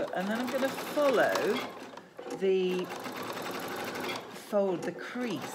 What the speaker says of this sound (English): So I'm just going to sew right from the stitching that I did on that seam there.